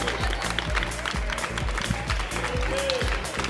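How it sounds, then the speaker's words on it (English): Applause for the teams at a middle school championship final, a steady crowd clapping over a thumping bass-heavy music beat, with a voice briefly in the mix. "Let's get a big round of applause for Flying Pythons going out in 3rd place"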